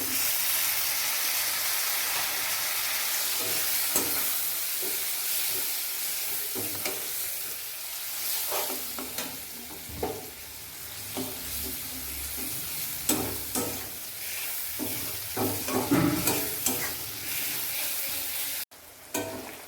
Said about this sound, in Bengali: আমার তেল ভাজাটা মোটামুটি প্রায় শেষের পথে